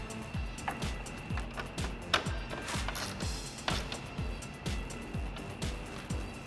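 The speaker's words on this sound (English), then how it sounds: "Now we can install the bottom bolt using our 13mm socket and tighten it down." A ratchet with a 13mm socket tightening the lower bolt of a projector headlight on a 2018-2020 Ford F-150, a rapid series of clicks in short bursts, close and fairly quiet, no talking.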